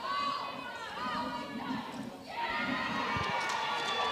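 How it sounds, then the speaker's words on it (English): A crowd at a state test series lawn bowls match cheers and chatters on a far rink, a sustained mixed roar of voices with excited calls, a brief dip and then rising again. "Lisa Phillips gets the crowd in raptures on the far rink"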